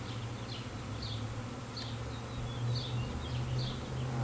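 Honey bees buzz steadily at an open, thriving hive full of honeycomb, a low droning hum with close passing wingbeats, moderately quiet and with no talk.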